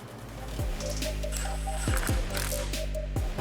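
A screw is tightened by hand during a semi truck horn install on a 2022+ Toyota Tundra, heard as repeated ratcheting clicks and creaky mechanical turns at a steady close-up rhythm.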